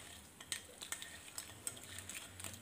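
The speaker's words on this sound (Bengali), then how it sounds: "তো এবারে আমি প্রনটাকে ভালো করে মাখিয়ে নিচ্ছি লেবু রস আর" Raw prawns are mixed by hand or spoon with lemon juice and salt in a bowl, producing soft, faint wet squelches and small clinks in an irregular rhythm, close and quiet.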